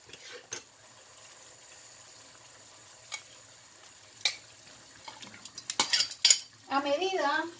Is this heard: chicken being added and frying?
yes